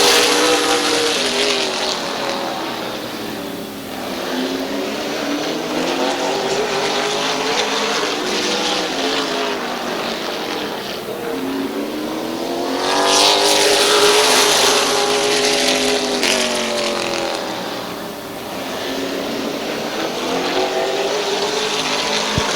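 Race cars roar around the Midvale Speedway oval in a loud, continuous engine wash, with pitches rising and falling as the cars sweep past, surging louder around the middle of the run.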